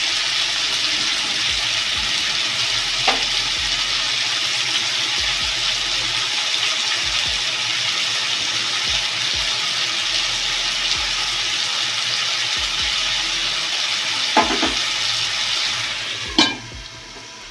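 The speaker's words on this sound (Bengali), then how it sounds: "আমি 5 মিনিট ঢাকা দিয়ে রাখবো, একটু ভাজা ভাজা হবে। গ্যাসটা একটু মিডিয়ামে রাখবো।" Fish roe taruli fries in a covered pan over a medium gas flame, giving a steady, dense sizzling hiss that runs unbroken throughout, with a few faint clicks near the end.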